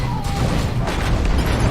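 A grenade explodes in the video game Dawn of War 2 with dense, loud, booming blasts and crashing debris. The roar fills the whole clip without a break.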